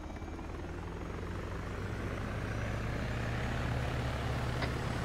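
A helicopter engine spooling up, a steady loud whine and low rotor drone that builds slightly in intensity, close and continuous with no talk.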